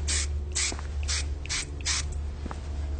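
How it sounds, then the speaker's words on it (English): Big Sexy Hair Spray and Stay all-nighter hairspray is sprayed in a salon, five short, crisp hissing bursts in quick rhythm, close and fairly quiet. "Now that I've got it ready for the final spray, I'm going to use one of my favorite big sexy hairsprays."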